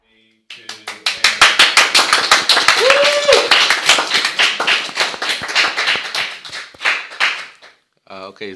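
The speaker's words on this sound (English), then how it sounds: "is the clapping done?" Crowd of students clapping in unison at a school broadcast, a fast steady rhythm of sharp claps building after a short silence, dense and loud for about seven seconds, then stopping as a voice begins.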